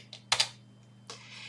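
A few quick, crisp keypresses on a computer keyboard, close and clear, with a short pause before one final tap over a faint electrical hum.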